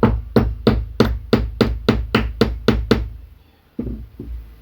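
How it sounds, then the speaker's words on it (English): About ten sharp, evenly spaced hammer blows driving a crosspin into a Tokyo Marui AKM airsoft trigger box, close and loud, followed by a pause and two more strikes. "I'm gonna hammer it because it still doesn't fit correctly."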